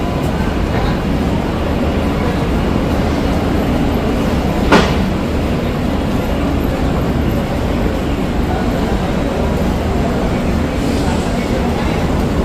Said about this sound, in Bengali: একদম রাইট টাইমে শিয়ালদা থেকে ছেড়ে দিল পুরী দুরন্ত এক্সপ্রেস।